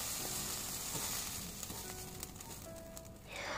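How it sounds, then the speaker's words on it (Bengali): Marinated prawns fry in hot oil in a pan, giving a soft, continuous sizzle with faint crackles, quiet and close, with no voices. "একইভাবে চিংড়ি মাছগুলোকেও ভেজে নিতে হবে"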